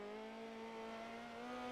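A midget race car engine in a racing video game, a steady high-pitched drone that climbs slightly in pitch as it revs, heard alone and fairly faint.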